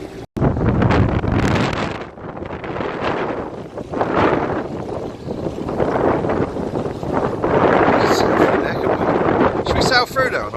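Strong wind buffets the microphone on a boating holiday, a loud continuous roar with gusting surges throughout, while people talk over it.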